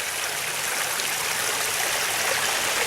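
A stream runs along a wooded nature trail at Fort Mountain State Park, Georgia, giving a steady, close, full rushing and babbling of water that holds at an even level with no voices.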